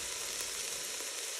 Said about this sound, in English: once the onions are sizzling